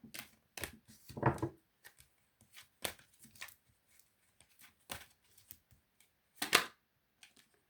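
Tarot cards are handled and laid down on a surface in a quiet room, making sparse, crisp taps, flicks and short papery slides, with a few louder snaps scattered among longer silent gaps.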